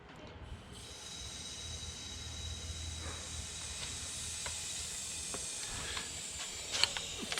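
Air hisses steadily from a leaking coupler on a car strapped to a dyno, a faint continuous hiss that slowly grows, with scattered small clicks and a sharper knock at the end.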